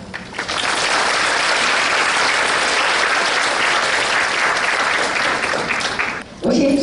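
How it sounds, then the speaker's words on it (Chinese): A lecture hall audience at Asia University breaks into warm, sustained applause to welcome the general manager, dense and loud for about six seconds before it abruptly cuts off. "那接下来让我们最热情的掌声欢迎总经理以及我们的文"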